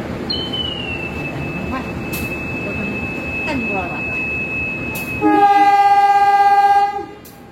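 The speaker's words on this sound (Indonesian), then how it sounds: "Di samping kereta api Sri Tanjung ini ada kereta api Mutiara Timur dari stasiun Yogyakarta tujuan Ketapang, Banyuwangi" The Sri Tanjung passenger train runs on the Ketapang, Banyuwangi line with a steady rumble and a long high whine, then a loud multi-tone train horn sounds for about two seconds near the end.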